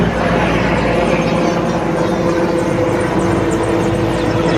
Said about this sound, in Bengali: হেলিকপ্টার বারবার এখান থেকে উপর দিয়ে যাচ্ছে